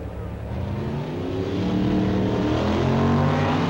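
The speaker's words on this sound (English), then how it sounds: "The Dodge pickup truck was converted to racing and is powered by a 425 horsepower V8." A Dodge pickup truck converted for drag racing, powered by a 425 horsepower V8, roars loudly, its engine note swelling and rising steadily as it accelerates close by.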